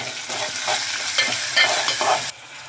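Spices and garlic sautéing in a hot pan, a dense close sizzle broken by repeated scraping stirs, fairly loud and with no voices, cutting off abruptly near the end.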